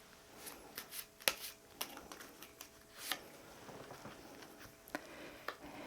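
Tarot-style cards shuffled for a card reading, a run of soft papery riffles and sharp flicks at irregular intervals, close and fairly quiet with no voices.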